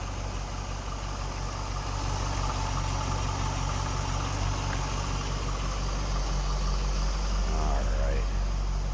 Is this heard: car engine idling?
yes